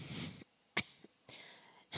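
During a quiet hypnosis session, a person gives several short, sharp coughs in a broken rhythm, separated by silent gaps. The last burst is loud and close.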